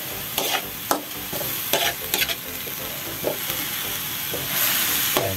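Goat meat sizzles in a hot frying pan while a utensil stirs it, giving repeated scraping strokes at an uneven rhythm over a steady close-up fry hiss.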